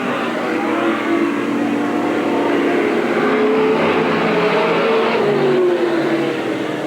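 Stock cars racing at Eugene Speedway in 1987, a loud continuous roar of engines droning and rising in pitch as the pack sweeps past, with no voices over it.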